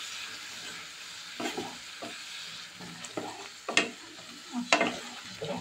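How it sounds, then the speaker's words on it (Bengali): Spiced masala with salt and a little water is stir-fried in a pan over a medium flame, a soft low sizzle punctuated by several distinct spatula scrapes and knocks, close and quiet, with no talking. "এবার এটাকে ভালো করে কষিয়ে নিতে হবে"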